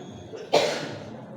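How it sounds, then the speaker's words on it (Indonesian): A single loud, close cough bursts out from someone speaking at a Maulid Nabi gathering in a small prayer hall, with a quiet room tone before and a short fading tail after. "Maaf, selalu batuk."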